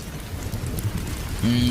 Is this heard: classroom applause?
no